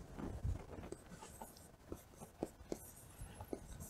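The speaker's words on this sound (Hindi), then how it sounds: "मैं लिख देता हूँ" Pen writing by hand on paper, soft repeated scratching strokes and taps in an irregular rhythm, quiet and close, with no talk over it.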